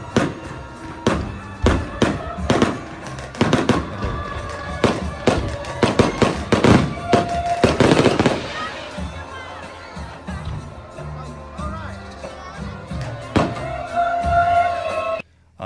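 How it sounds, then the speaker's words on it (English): Fireworks display bursting directly overhead at an outdoor festival, with a rapid series of sharp, loud booms and crackles for about eight seconds, then a fading crackle beneath distant crowd noise and faint music. "Lots of fireworks, lots of festivities that take place during the day leading up to the event of the fireworks show."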